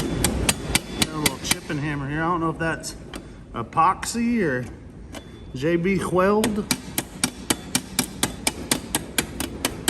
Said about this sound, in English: Got a little chipping hammer here.